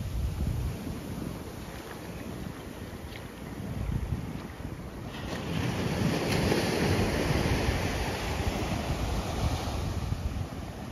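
Waves washing onto a beach at Khao Lak, Thailand, a continuous surf wash with wind noise on the microphone, swelling louder in the second half.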